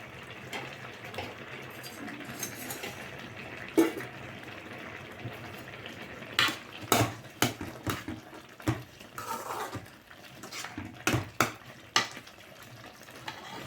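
A pot of wheat rava upma cooking, with soft bubbling and sizzling under a series of sharp metallic clinks and taps from a lid and spoon, close and moderate in level.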